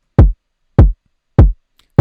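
Moombahton kick drum sample struck four times at an even pace, each a deep booming thump with a short decay, loud and isolated with silence between hits.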